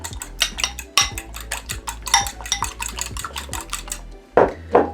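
Seasoned meatball mixture being whisked in a bowl: rapid, rhythmic clinking of a utensil against the bowl, close and continuous, with a couple of louder knocks near the end.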